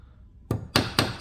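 A hammer taps a bent nail to straighten it, giving three sharp, close knocks about a quarter second apart after a quiet start.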